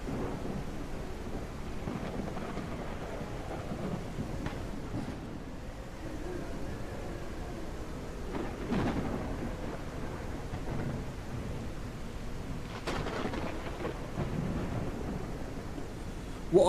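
A thunderstorm with rain sounds in the Surroundead video game on nightmare mode: a steady wash of rainfall with low rumbles swelling now and then, moderately loud and continuous, with no voices.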